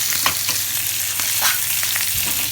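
Monkfish liver and bread slices sizzle steadily in a hot pan, a loud, close, continuous hiss broken by a few soft stirring scrapes, with no voices.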